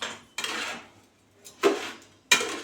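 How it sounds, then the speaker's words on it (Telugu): Leftover cooked rice mixed with a spoon in a metal pot: three separate bursts of scraping and clinking, each a short run of spoon-on-pot contact, close and clear with quiet gaps between. "ఇదంతా ఇట్లా బాగా కలిసేలా కలుపుకోవాలి"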